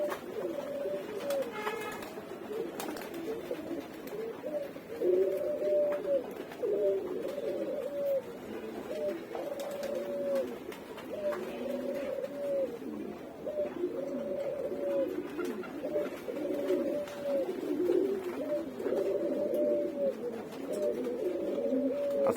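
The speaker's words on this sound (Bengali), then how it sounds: "এই যে কবুতর নামার দৃশ্যটা" A flock of pigeons coos steadily and repeatedly after landing together, close and continuous, with faint wing flutters and no talk.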